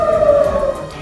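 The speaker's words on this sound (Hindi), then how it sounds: "इसके लिए पूरे शहर में तेज आवाज में सायरन बजाए गए," Air raid warning sirens blare across an Israeli city, a loud sustained wailing tone holding steady and close with no voices over it.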